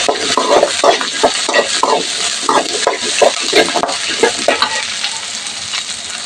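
Half a kilo of chicken liver and gizzard with green chillies is pepper-fried in a pan, with loud sizzling and repeated scraping stir strokes against the pan in a quick, irregular rhythm.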